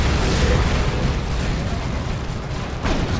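Plasma gun fire from a Space Marine Techmarine in the Warhammer 40,000 strategy game Dawn of War 2 blends into a loud, continuous rumble of battle explosions and weapon bursts, with no clear gaps.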